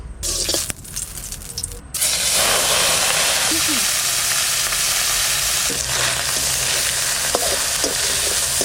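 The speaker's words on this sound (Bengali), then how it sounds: "এবার কুমড়ো ফুলটা ভাজা করব, আর তার সঙ্গে কিছু মাছও দেব।" Pumpkin flowers and small freshly caught fish frying in a pan, a loud, dense sizzle and hiss after a brief quieter opening, with occasional stirring scrapes and a faint voice in the background.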